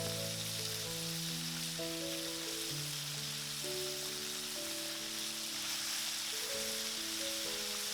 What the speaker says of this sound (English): the beef enough space to cook ensures we get a really wonderful brown sear instead of just boiling it in its own moisture